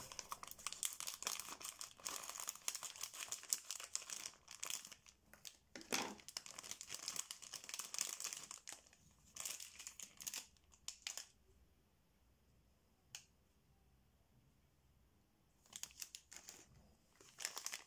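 Crinkly packaging being unwrapped from Gorjuss press items, with bursts of rustling and crumpling that come and go, pausing to near silence before resuming close by.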